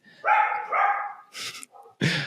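A dog barks nearby in a few short, sharp yips and woofs, with brief quiet gaps between them.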